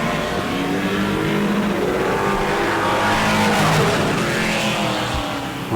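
Pro trucks roar around the track during qualifying laps at Auburndale, a loud continuous engine drone with rising and falling pitch as they pass, and tire noise throughout.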